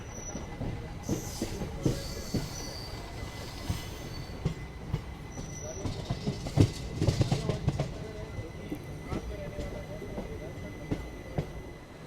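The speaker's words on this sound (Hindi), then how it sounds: "फिलहाल अपनी ट्रेन जो है हिम्मतनगर से ले करके डूंगरपुर के सेक्शन के बीच में चल रही है" An Agra–Ahmedabad special passenger train running between Himmatnagar and Dungarpur, heard from on board: steady rumbling wheels with rhythmic clacks, a faint wheel squeal, and soft background voices.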